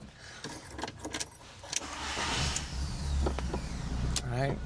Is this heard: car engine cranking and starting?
yes